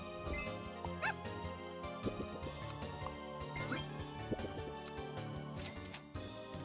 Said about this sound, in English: let's get some puppies in here